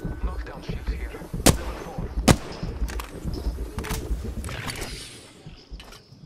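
Gunfire in Apex Legends aimed at a cargo bot: two sharp, loud shots stand out near the middle, with several fainter pops after them, over a busy game background and speech.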